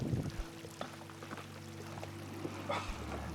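A water bottle being filled from a small stream at the upper reaches of the River Ayr gurgles and trickles steadily, close by, over the stream's soft flowing wash.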